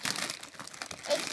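A plastic packet of Haribo sweets is torn open and crinkled up close, quick irregular crackles and rustles over about a second.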